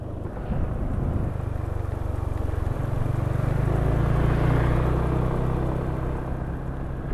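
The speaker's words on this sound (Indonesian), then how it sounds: "suara mesin kasar. Ini suara mesin kasar nih kalau menurut penulis." A rough-running Kawasaki motorcycle engine, said to suffer from fuel dilution, produces a steady, dense low rumble with a coarse, uneven texture, holding at an idle-like level with a slight swell midway.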